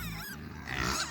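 Pigs in a winter farm pen grunt and snuffle close by, with a low rough grunt early and a louder burst of grunting near the end.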